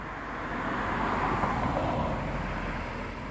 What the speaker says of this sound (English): two cars are basically on my way, so it went kind of loud